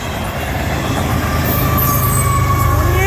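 A CN freight train with a distributed power unit locomotive rolls past at Ladysmith. The rumble is loud and constant, with wheel squeals and rail noise. There is no talking.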